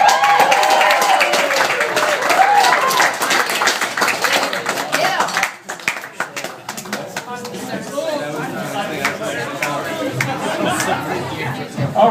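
Comedy club audience clapping in a steady, close wash of applause mixed with crowd chatter, dipping briefly partway through before picking back up.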